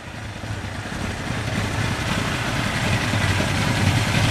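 A 1982 Suzuki GS1100E motorcycle engine runs steadily in a driveway, a continuous, fairly loud low rumble that swells slightly toward the end.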